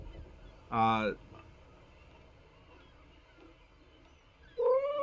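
A domestic cat meows twice, a loud drawn-out call near the start and another at the end, close to the microphone, with quiet room background between.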